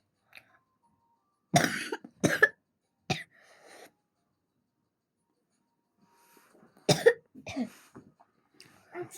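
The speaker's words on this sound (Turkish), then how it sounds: "Biraz önce öyle öksürdüm." A few sharp coughs in quick clusters, close by, separated by stretches of near silence, with a throat clear among them.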